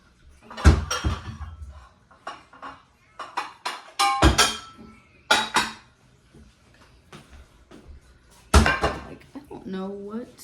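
Dishes and a bowl are handled in a kitchen, with scattered clunks and knocks of cupboards and crockery, a few sharper bangs among them, while a person talks throughout.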